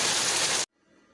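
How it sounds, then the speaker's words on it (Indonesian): Heavy rain pours as a dense, steady hiss at an early-morning hour, then cuts off abruptly to near silence just past the halfway point. "Ini masih jam 7, udah hujan deras."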